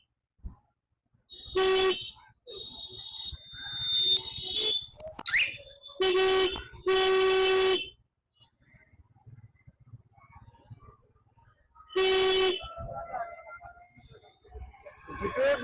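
Several vehicle horns honk on a busy Chandannagar street during the Jagaddhatri Puja festival. Loud, sustained blasts come in three separate bursts with quieter gaps, and faint crowd voices and street noise sit between them.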